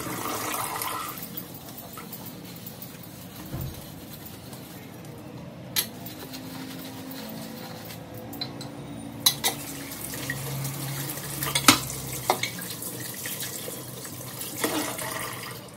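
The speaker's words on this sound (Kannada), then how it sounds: "ನೋಡಿ ಎಷ್ಟು ಬೇಗ ಇಷ್ಟು ಕ್ಲೀನಾಗಿ ವಾಶ್ ಮಾಡ್ಕೊಂಡಿದ್ದಾಯಿತು" A cooking pot being rinsed and scrubbed under a running kitchen tap, a steady wash of water with scattered clinks and knocks of the pot against the sink, heard without talk.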